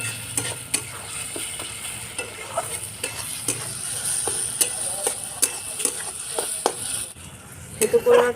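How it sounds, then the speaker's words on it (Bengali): Onion and tomato fry in a pan for an egg and taro curry, a steady sizzle under repeated clinks and scrapes of a stirring spoon against the metal, close and fairly loud, with a brief quieter pause near the end. "পেঁয়াজ টমেটোটা ভালো করে ভেজে নিতে হবে"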